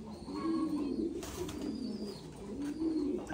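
Thai Titan meat pigeons at a farm give soft, repeated low cooing calls, close and steady, in a run of rolling phrases with faint background noise and no talk.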